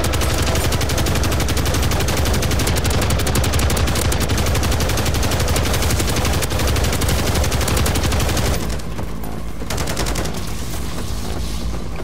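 Sustained rapid automatic gunfire roars nonstop in Call of Duty MWZ, loud and close for most of the stretch, then drops to a sparser, quieter rattle near the end, with no talk.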